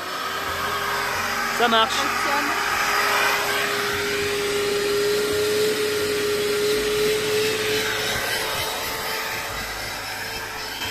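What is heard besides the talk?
vacuum cleaner powered by an EcoFlow battery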